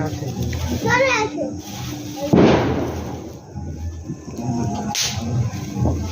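Diwali firecrackers go off among chattering children: one sharp crackling bang near the middle and a fainter pop later, with kids talking throughout.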